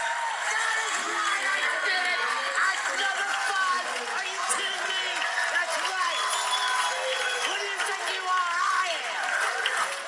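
Crowd at a sporting event cheers and applauds in a continuous roar. Excited voices talk over the noise the whole time.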